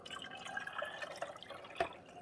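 Water pours and trickles into the reservoir of a Chulux single-serve K-Cup coffee maker, faint and close, with a few drips and small splashes near the end.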